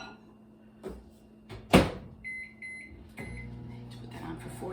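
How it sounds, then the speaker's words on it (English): A kitchen microwave oven in use: a door thump, then a clatter and a short run of high electronic keypad beeps, followed by the low steady hum of the oven running. "Put that in the microwave."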